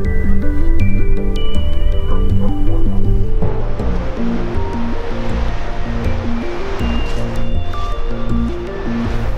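Ocean surf washes in a continuous roar on the beach at Sankt Peter-Ording, with music playing over it before fading, leaving the rushing waves loud and close, in icy wind.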